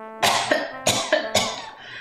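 A game character in Animal Crossing: Wild World coughs in a chiptune-style voice, three distinct cough bursts with short throat-clearing catches between them, close and fairly loud over a faint musical bed.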